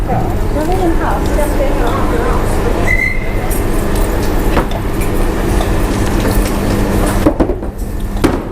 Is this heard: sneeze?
no